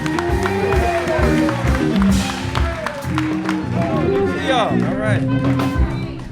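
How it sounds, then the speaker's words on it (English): A comedy club audience at a live Kill Tony taping cheers and applauds as a comedian walks on, a dense roar of clapping and whoops mixed with walk-on music and voices talking over it. "Make some noise for Marcus, everyone."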